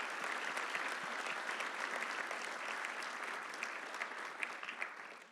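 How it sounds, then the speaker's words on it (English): An audience at a corporate site selection event in Little Rock, Arkansas, gives a big round of applause: steady, dense clapping at a moderate distance that holds evenly and then thins slightly toward the end. "Let's please give them a big round of applause and welcome them to Arkansas."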